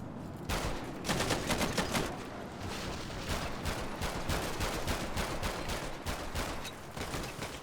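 Sustained gunfire during an active shooter training event in GTA 5 roleplay: dense, rapid volleys of loud shots that crackle and rattle almost without pause, close and heavy throughout.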